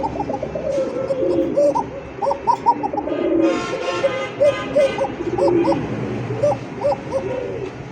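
Repeated rolling coos from an Arabian koka pigeon come in short bursts close by, with a brief burst of other noise midway and a constant background drone.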